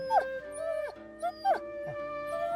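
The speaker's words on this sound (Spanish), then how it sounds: "el perro echó a correr en angustiados círculos, herido por el tajo y aullando de dolor" A dog whimpers and yelps in pain as a story sound effect, several sharp rising and falling cries spaced across a short span, close and clear.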